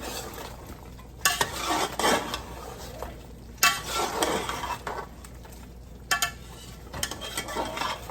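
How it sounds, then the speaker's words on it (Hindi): A steel spoon scrapes and clanks against a silver cooking pot while chicken biryani is stirred, coming in irregular loud scraping bursts with soft sizzling between them and no talking. "सिल्वर का देगचा हो, स्टील का चम्मच हो तो साउंड ज़रा ज़्यादा होती है"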